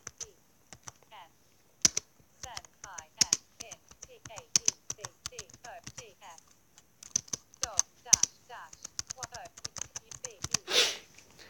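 Typing on a computer keyboard, a steady patter of soft, close key taps in irregular bursts with brief pauses, one sharper clack near the end.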